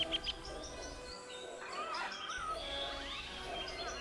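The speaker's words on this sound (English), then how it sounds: "alive with the call of birds and monkeys" Tropical birds call in the Costa Rica rainforest with overlapping chirps, whistles and sweeping calls over a dense, steady background of forest ambience.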